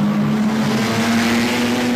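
Classic sports and racing cars from a 1986 Wellington race heat roar past on a damp track, with a loud, continuous engine drone rising slightly as they come through the field.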